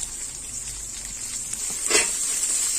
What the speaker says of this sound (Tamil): வெங்காயம் போட்டாச்சு. நல்லா வதக்கி விட்டுக்கலாம்